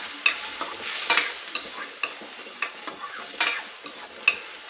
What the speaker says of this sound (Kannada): ಇದೊಂದು 2 ನಿಮಿಷ ನೀಟಾಗಿ ಆಯಿಲಲ್ಲಿ ಬಾಯ್ಲ್ ಆಗಲಿ.